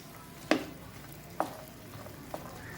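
A spoon stirs brinjal and cooked cowpeas in a pan in a home kitchen, giving three separate scraping clinks spread about a second apart, with a faint sizzle between them.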